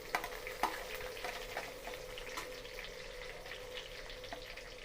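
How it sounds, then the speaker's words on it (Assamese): Whole spices, including star anise, fry in oil for an Assamese curry, giving a soft, steady sizzle with a few faint clicks and stirring scrapes, quiet and close. "মছলাখিনি অলপমান ভাজিম।"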